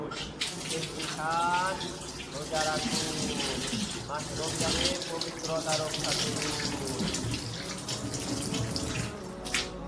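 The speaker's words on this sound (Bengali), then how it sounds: "চলো আমি একটু চোখে মুখে জল দিয়ে এবার রান্নাঘরে ঢুকবো" Tap water runs steadily into a sink as someone splashes their eyes and face, a close, continuous flow with irregular splashes and occasional faint voices in the background.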